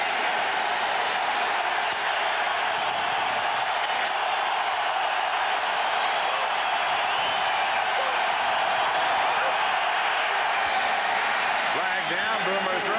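Steady, loud roar of a football stadium crowd at Lambeau Field during a 1994 Packers–Jets game on third down, a dense continuous wash of noise that holds without a break and swells slightly toward the end.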